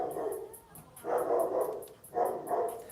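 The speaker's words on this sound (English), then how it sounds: "hear the dog?" A dog barks in short clustered bursts, three rounds of barking spread over a few seconds, fairly faint and somewhat distant, with no talk over it.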